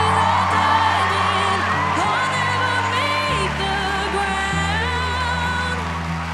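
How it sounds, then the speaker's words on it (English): On an America's Got Talent stage, an audience whoops, cheers and screams loudly throughout while a 10-year-old girl sings with music behind her, and the crowd noise stays over her voice the whole time. "the crowd cheering thing is horrible and obnoxious"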